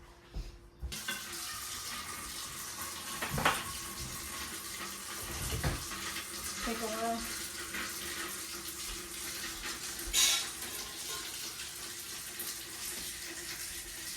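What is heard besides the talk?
filling a pressure canner with water from tap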